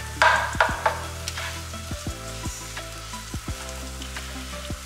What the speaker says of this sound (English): this is what we call sauteing it